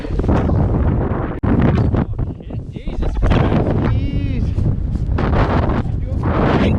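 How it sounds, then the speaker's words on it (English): Strong wind roars and buffets the microphone in loud, continuous gusts on a snowmobile track by a frozen lake, drowning out other outdoor sound. "Windy."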